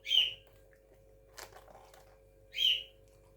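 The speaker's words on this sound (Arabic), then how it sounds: "ربنا يهديكم يا دي العصافير" Sparrows give two short, clear chirps a few seconds apart, faint and distant over a quiet kitchen hum, with a small rustle between them.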